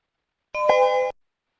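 A single electronic conference-call join beep sounds for about half a second, clean and steady with a slight onset click, alone against silence.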